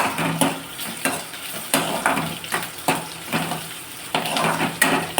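Chopped tomato sautés in a pan for a cluster bean curry, with a low frying hiss under repeated close scrapes and taps of a spoon against the pan at an uneven, busy rhythm.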